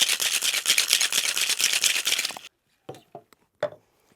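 A metal cocktail tin packed with ice for a gin and Chartreuse drink is shaken hard in rapid, steady rattling strokes for about two seconds, then stops, followed by a few sparse clinks and knocks.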